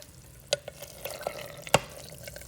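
Faint soft pops and gurgles rise from a fermenting makgeolli rice mixture being stirred, with a few sharper liquid clicks and splashes over a quiet background.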